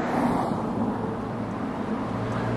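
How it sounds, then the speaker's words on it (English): Car coming down a curvy hill, a low steady engine and road rumble passing at moderate distance with a faint continuous whoosh. "Here's a car coming down the hill."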